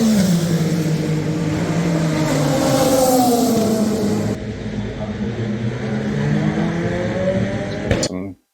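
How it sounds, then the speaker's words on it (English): Race cars at night during Le Mans, engines whining and shifting pitch as they pass, loud and continuous with a voice talking over them. "Got to watch some night racing."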